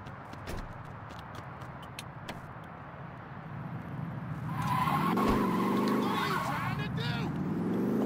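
Car driving and skidding in the video game Saints Row 2: engine drone, then a rising, loud tire screech from about the midpoint as the car slides, with clicks early on and talk over it.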